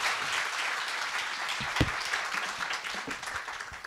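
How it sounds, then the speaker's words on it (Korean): A church congregation at a Sunday worship service applauds to welcome a guest pastor, with moderate, steady clapping and a few sharp, louder claps standing out near the microphone. "박수로 환영하겠습니다"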